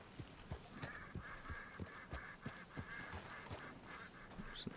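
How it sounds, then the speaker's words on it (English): Ducks quack repeatedly in Red Dead Redemption 2's outdoor hunting world, a steady rhythmic run of nasal calls over a constant ambient background, with no voices. "Some ducks in there."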